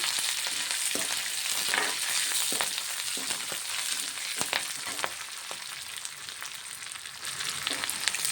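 Curry leaves and onions sauté in hot oil for a tempering, giving a steady close sizzle punctuated by scattered crackles and the occasional scrape of a stirring spoon, with no voices.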